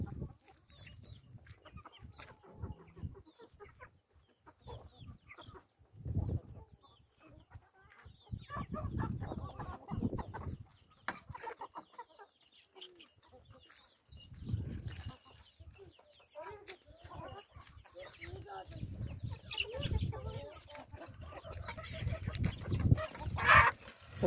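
Chickens clucking and chirping on and off nearby on a village farm, with small peeping chick calls mixed among the louder hen sounds, outdoors.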